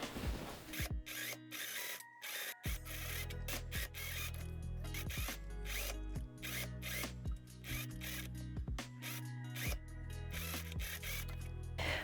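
A sewing machine runs a French seam on a dress, its needle clattering in quick mechanical bursts broken by brief pauses, fairly quiet and close, with no voices.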